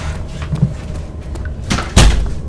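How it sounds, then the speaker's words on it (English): An office door being pushed firmly shut, with a few soft handling knocks followed by a solid thump near the end, close and alone. "Office door more firmly closed."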